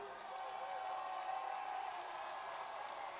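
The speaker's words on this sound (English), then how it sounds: "We got some crowd going." A crowd at a college football game between Grand Valley State and Saginaw Valley cheers in a steady, distant roar, with a commentator talking over it.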